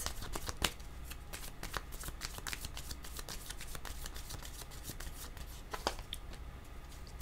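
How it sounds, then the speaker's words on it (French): Tarot cards are shuffled with continuous, close, crisp riffling and slapping, in quick irregular bursts without speech. "Je vais demander une autre carte."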